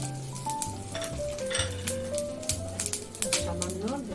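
Whole spices crackle and sizzle as they hit hot oil for Bengali tempering, a bright continuous frying hiss with sharp pops, a few utensil clinks and a voice talking over it.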